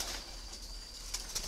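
Giant pink breeding doves coo softly in a couple of faint calls over a steady background hum, with a light flutter near the end.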